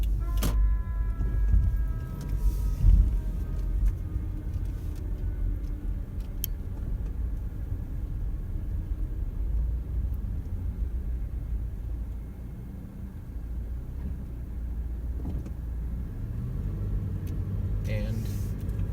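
Car interior on the drive back to a DMV office after a behind-the-wheel driving test, a steady low engine and road rumble throughout with occasional faint clicks, close and continuous.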